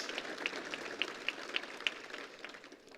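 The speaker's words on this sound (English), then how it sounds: "let's give them a round of applause for all the great work that they do" Audience applause in a hall at an event, faint and steady with crisp individual claps standing out from a soft rushing wash for about three seconds.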